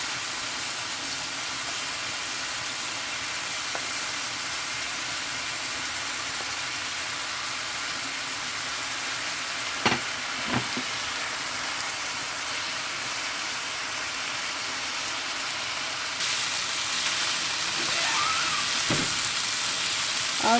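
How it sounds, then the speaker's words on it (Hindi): Chicken and onion fry in a pan with a steady, even sizzle throughout, a couple of faint clinks partway through and the frying growing slightly louder near the end. "अब ये फ्राई हो रहा है, थोड़ा सा हो चुका है।"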